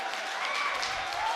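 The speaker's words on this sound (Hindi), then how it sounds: "एक बार ताली बजाकर थोड़ा सा मेरा जहन बना दीजिएगा" A mushaira audience claps in a brief burst of dense, even applause that holds at moderate loudness, with no talk over it.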